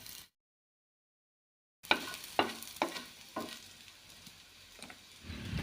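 Onion, grated coconut and chillies dry-roasting on a hot tava for a drumstick-leaf chutney, giving a soft steady sizzle broken by several sharp stirring scrapes and clinks close by, after a brief silent gap.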